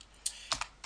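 Keys clatter on a computer keyboard while a command is entered in a Linux terminal, a short burst of four or five close, crisp keystrokes with uneven spacing.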